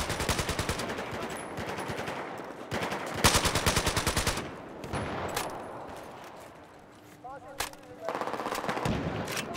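Automatic rifle fire in Battlefield 4: several rapid, loud bursts of rattling shots, close and dense, broken by short pauses, with a faint voice underneath.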